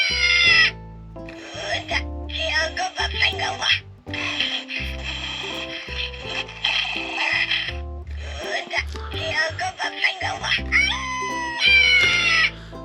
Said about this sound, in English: We had to get Wicket because not only is it kind of a cute little plush,